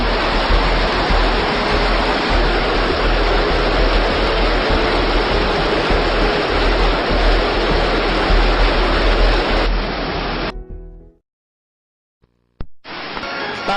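Floodwater in Stone Mountain Creek rushes in a loud, constant roar close by, steady throughout. The sound cuts out abruptly near the end, goes briefly silent, then returns.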